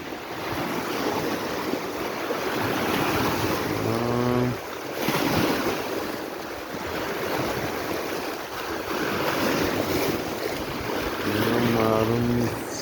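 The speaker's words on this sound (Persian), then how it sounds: "آب میاد میخوره به صخره ها." Waves of the Persian Gulf wash against shoreline rocks in a continuous surging rush mixed with wind buffeting the microphone. A voice speaks briefly twice underneath.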